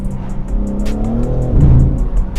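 A 2021 BMW M3 Competition revs and pulls away, a loud, close engine note rising in pitch with a brief tire-squeal-like edge, steady throughout without talk.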